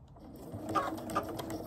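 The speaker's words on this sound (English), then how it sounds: "And then we're going to sew right across to that point in the corner." A sewing machine stitches Tilda quilt fabric, a soft, steady mechanical whirr with faint rhythmic ticking, heard close and alone.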